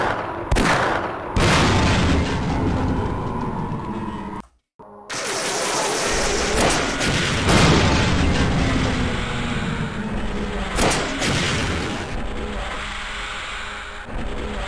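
Gunfire and missile explosions in the Half-Life video game roar loudly and continuously, with sharp blasts and rumbling booms, broken by a brief near-silent gap before the barrage resumes just as dense.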